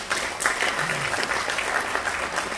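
Audience applause at a Korean parliamentary World Couples' Day ceremony welcomes a former Democratic Party leader, a steady, fairly loud patter of many hands throughout, with a faint voice murmuring underneath.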